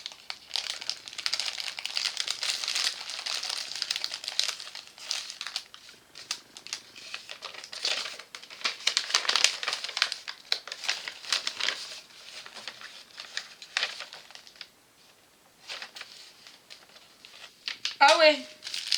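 Plastic packets from an AliExpress parcel are torn open and handled, making dense crinkling and rustling for most of the stretch, with a brief quieter gap near the end.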